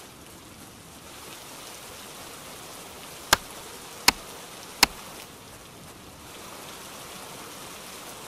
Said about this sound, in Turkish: Yağmur da bayağı yağıyor ya.